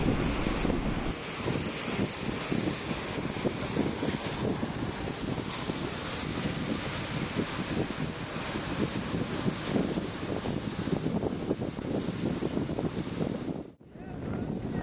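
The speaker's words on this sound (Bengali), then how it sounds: "পানি ঠেলে সামনের দিকে এগোচ্ছে" Dhoel Pakhi-8 river launch on its first trip to Ilisha, pushing through the river with a steady rush of water and wind noise from the front deck, continuous and loud until a brief dropout near the end.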